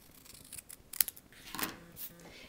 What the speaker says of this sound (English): each one, you can see I snipped off the end, and I'm going to do that on the one we just cut together